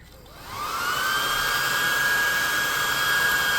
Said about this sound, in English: This is a +2 hot air gun of burning.